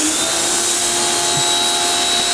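Pressure washer rinsing a car, its motor and spray giving a steady, loud hiss and drone that runs unbroken throughout.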